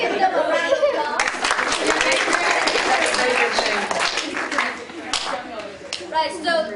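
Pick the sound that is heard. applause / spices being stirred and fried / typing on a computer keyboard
applause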